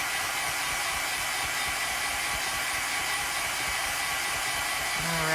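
A hair dryer blows steadily and loudly on chalk paint on a dollar store makeover piece, a continuous broadband whoosh running the whole time with a slight pitch shift near the end.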